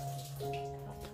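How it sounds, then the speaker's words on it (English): Tap water runs steadily into an aquarium siphon hose as it is filled, a continuous close splashing flow with faint tonal hum in the background. "I also prepare the siphon hose and fill it with tap water."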